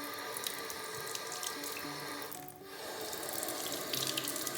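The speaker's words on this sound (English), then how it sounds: "you're gonna add some warm water" Warm tap water runs steadily into a sink with a hissing splash, briefly dipping before flowing on, while making pizza dough.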